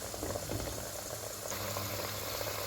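Fresh tomato stew in a pot, bubbling steadily with a continuous wet simmer for the whole stretch; no talk over it.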